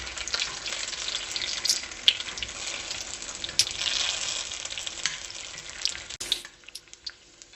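Sage leaves crackle and sizzle in a hot pan, a steady close hiss with a few sharp spoon clicks, easing off near the end.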